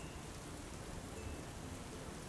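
Steady rain sound effect for the Noah's flood story, a continuous dense hiss of falling rain with a faint low rumble like distant thunder, even and unbroken throughout.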